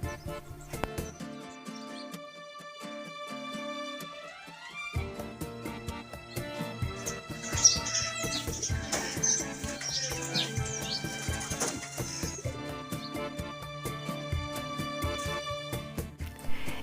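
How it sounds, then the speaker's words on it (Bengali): Birds chirp and call around a village house in a hilly forest village, with scattered tweets and a few hoof-like clops among quiet rural background sounds over a fairly faint, calm scene. "একটা বাড়ির সামনে চড়ে বেড়াচ্ছে কবুতর"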